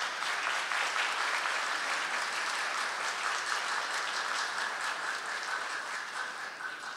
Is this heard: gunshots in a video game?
no